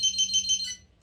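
A BIQU BX 3D printer beeps on startup, a run of four quick high-pitched electronic beeps in even rhythm, a lower tone, then a short final chirp, close and clear with no talking.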